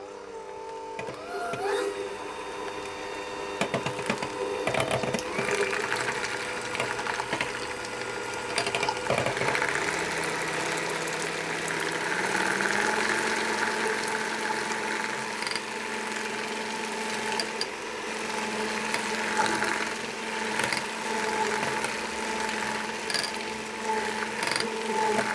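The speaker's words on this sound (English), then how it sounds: "I'm just going to whisk that to stiff peaks." Electric mixer whisking cream with powdered milk and sugar toward stiff peaks, a steady whirring mechanical drone that holds on for the full stretch, close and moderately loud, with a slight shift in pitch partway through as the cream thickens.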